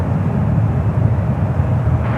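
An Air Premia Boeing Dreamliner jet at San Francisco airport gives off a steady low engine roar, fairly loud and unbroken, with no voices.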